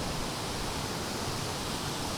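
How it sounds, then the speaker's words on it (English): Glenevin Waterfall in Ireland roars as a constant, broadband rush of falling water, close and steady with no breaks and no voices. "So we got one waterfall here."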